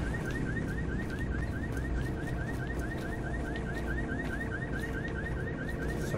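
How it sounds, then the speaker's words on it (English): A car alarm in the zombie action game Dead Island Riptide wails in a steady, fast repeating warble, loud and continuous, with no talk over it. "Where's the freaking alarm?"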